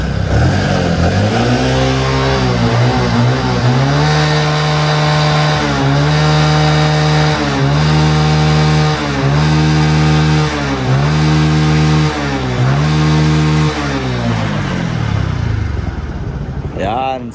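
A Kawasaki motorcycle engine runs loud and close, revving up and down repeatedly in a steady pulsing pattern before cutting off at the end.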